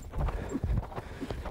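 Selle Français stallion, six years old, cantering through a jumping exercise: rhythmic hoof clip-clop thudding close by in a steady three-beat pattern, with a faint snort amid the footfalls.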